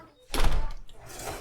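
The front door of a house opens with a sharp thump and a brief rattle as a kid's 12-volt electric ride-on toy, the LIGIANT L8, heads outside, then fades into soft room noise.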